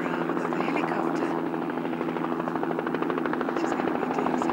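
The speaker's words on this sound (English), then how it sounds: "waiting for the arrival of the helicopter" Helicopter heard from the roadside, a loud steady rotor thrum with a rapid rhythmic chop throughout, close and continuous, with voices talking faintly underneath.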